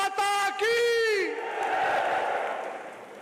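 Large outdoor crowd at a state livestock exhibition closing ceremony shouting a patriotic chant together, a few loud voiced calls followed by a broad roaring wash of many voices.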